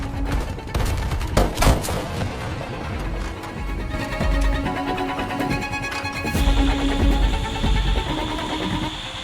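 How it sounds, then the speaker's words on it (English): ZU-23 anti-aircraft guns firing around an industrial zone in wartime, a dense continuous clatter of rapid bursts with sharp cracks layered over a rumbling roar, loud and sustained throughout. "the Zu-23s positioned around the industrial zone created a ring of fire to block those trying to hug the ground"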